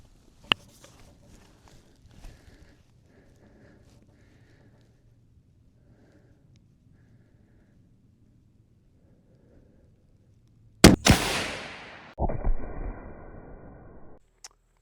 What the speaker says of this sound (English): We're gonna go ahead and take our shot here from 200 yards.